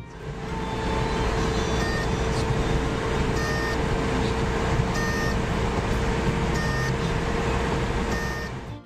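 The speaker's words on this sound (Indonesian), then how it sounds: "alarm di dalam dashboard yang akan berbunyi jika mobil ini dijalankan dengan" Mitsubishi Colt T100 dashboard overspeed warning alarm, a steady high-pitched electronic tone sounding continuously at moderate level over a constant engine and road rumble, with short repeated beeping bursts layered on top.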